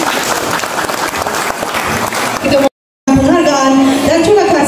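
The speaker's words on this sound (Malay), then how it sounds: "Sekali lagi tepukan untuk Yang Berhormat Dato' kita." Audience applause at a formal Malaysian ceremony honouring a Dato', a dense sustained clapping crowd that drops out briefly and then resumes at full strength with talk mixed in.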